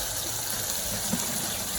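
Water runs steadily from a tap to fill a plate used for seasoning beef for Puerto Rican stew, a soft continuous gushing hiss with one small splash near the middle, no voices.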